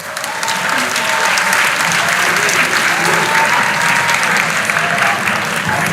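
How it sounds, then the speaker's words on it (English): Sustained audience applause for math consultants at a school quiz semi-final, a loud, dense wash of many hands clapping that carries steadily for several seconds with a faint murmur of crowd underneath. "Please clap for math consultants."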